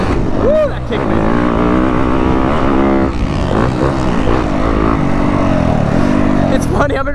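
A Yamaha YZ250F dirt bike engine on a motocross track, its revving and shifting pitch loud and close throughout, with wind noise and a rider's voice briefly heard over it.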